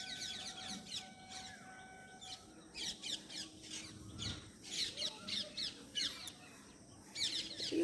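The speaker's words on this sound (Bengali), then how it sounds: "টিয়া মনে হয় নাকি?" Parakeets squawking and chirping from a rooftop under open sky, a series of harsh, repeated calls in bursts, moderately distant and fairly faint over quiet outdoor background.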